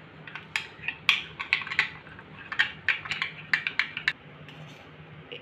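A spoon scrapes and clinks against a bowl while a yogurt, cornflour and chili powder marinade is mixed, giving irregular close taps and knocks for about four seconds before stopping, with no talking.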